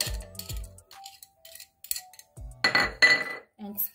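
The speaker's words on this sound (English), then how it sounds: "this is 1 tablespoon of sugar. I'm just going to mix it in here" A spoon clinks and scrapes against a bowl while stirring a tablespoon of sugar, with a few sharp metallic taps and short bursts of mixing, close up, with brief pauses between strokes.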